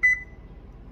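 A single short electronic double beep from an oven being set to preheat to 450, clear and near, fading into quiet room tone.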